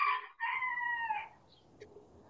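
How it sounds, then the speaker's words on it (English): A rooster crows loudly and close by in a drawn-out cock-a-doodle-doo that breaks briefly and then carries on. It is followed by quieter background noise and a faint, short chirp. "What? Rooster."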